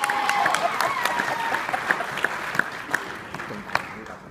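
An audience at a company event applauds and cheers as a woman walks down the aisle, a steady crowd clapping with distinct sharp claps standing out and a voice heard over it.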